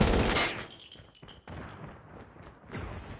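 Gunfire in the mobile shooter game Frontline during a ranked match, a few sharp thumping shots at uneven intervals with echoing tails, heard at moderate loudness over background battle noise.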